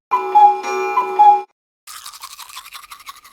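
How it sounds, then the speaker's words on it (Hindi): A toothbrush scrubs teeth in a quick run of soft, rhythmic bristle strokes, heard close and alone after a brief tonal jingle and a moment of silence. "यह ब्रश की आवाज है"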